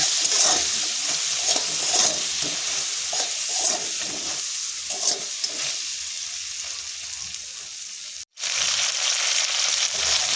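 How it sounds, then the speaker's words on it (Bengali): Prawns frying in hot oil in a pan with turmeric and salt, a steady close sizzle under repeated scraping stirs for about eight seconds, a brief dropout, then the sizzle resumes alone. "এবার এখানে আমি দিয়ে দেবো সামান্য হলুদ আর সামান্য লবণ দিয়ে ভালো করে নেড়ে চেড়ে নেব।"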